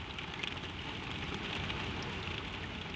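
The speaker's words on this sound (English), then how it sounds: "Rain on the roof, a single lamp, a little world that has stopped for the night." Soft, steady rain patters on a roof, a faint, even wash of drops with no pauses and no voices, like a quiet night indoors.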